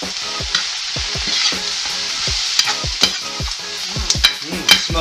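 Lechon kawali sisig frying in a pan with chili added, steady sizzle beneath repeated scraping stir strokes of a spatula against the pan, close and moderately loud with no talk.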